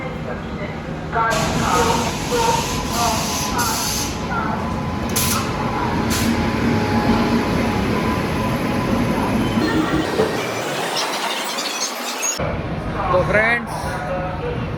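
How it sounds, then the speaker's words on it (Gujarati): A train arrives at Ahmedabad Kalupur railway station, rumbling and clattering loudly nearby, with metallic squeals and hissing, while voices talk over the steady rolling noise. "અમારી ટ્રેન પણ ઓલમોસ્ટ આવી ગઈ છે"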